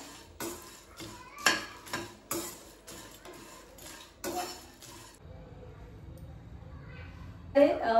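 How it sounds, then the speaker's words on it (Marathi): Whole chai masala spices, including star anise, nutmeg and dry ginger, dry-roast in a pan on low flame with rapid rattling spatula scrapes and clinks against metal, then a quieter stretch and a final clatter; no talk is heard. "हे सर्व आपण मंद आचेवर भाजून घेऊया"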